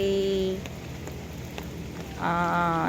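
Rain falling steadily during Typhoon Crising, a soft continuous patter in the background while a person speaks at the start and end.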